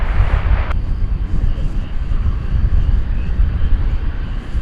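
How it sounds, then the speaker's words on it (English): Boeing 777-200LR airliner at DFW Airport, heard as a steady, loud low engine roar with broadband rumble and wind buffeting, continuous throughout. "A 777-200 LR, to be precise, on its way to Doha."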